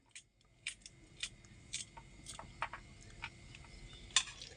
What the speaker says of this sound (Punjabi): ਸਾਰੀਆਂ ਪਿੰਡੀਆਂ ਕੱਟ ਲੈਣੇ ਆਪਾਂ ਸਾਫ਼ ਕਰ ਕਰਕੇ